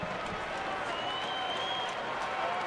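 Crowd at a baseball game at Arizona's ballpark cheering and applauding, a dense, steady roar of claps and shouts spread wide at a moderate distance, with faint commentary voices blended underneath.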